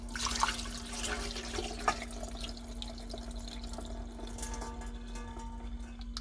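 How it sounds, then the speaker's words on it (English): Liquid from canned food poured through a strainer into a sink, a steady running-water wash with soft trickling and a few small drips, close by and moderately loud over a constant low electrical hum. "I'm going to strain it here."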